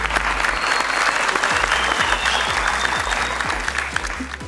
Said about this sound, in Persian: تشویق کنین